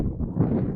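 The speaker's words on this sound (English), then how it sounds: "That's proof that it is windy." Wind gusting across an outdoor golf course among pine straw, a steady low rumbling buffet against the microphone that swells briefly and holds close and fairly loud, with no talking.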